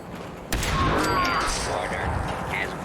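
Gunfire in the VR shooter Fallout 4 VR, a sudden loud burst starting about half a second in, then sustained rattling combat noise close by that fills the rest of the clip, with speech mixed in.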